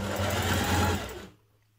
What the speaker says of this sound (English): you're going to open out one side and stitch that around your armhole.